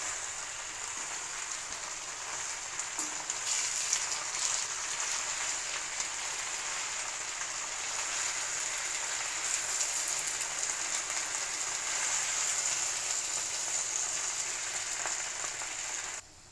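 Cleaned fenugreek and amaranth greens are tossed and mixed in a hot pan, giving a steady close sizzle and crackle of frying that continues without a break.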